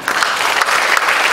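An audience at a church sermon gives a brief burst of dense, steady applause, with many hands clapping at once.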